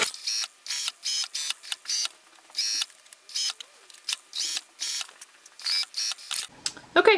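A sewing machine runs in short bursts as it understitches the lining of a scoop-neck dress bodice, each whirring run separated by brief pauses, close and clear, with a few clicks at the end.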